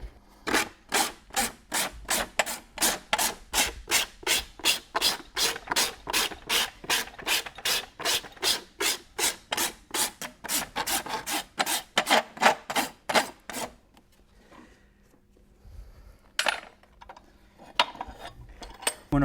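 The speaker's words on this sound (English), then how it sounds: "Once I have that taken care of, then I'll rasp from the outside and" A farrier rasps a horse's hoof from the outside while fitting a pad, making a long run of steady, rhythmic gritty strokes, loud and close, before the rasping stops and only scattered faint handling noises remain.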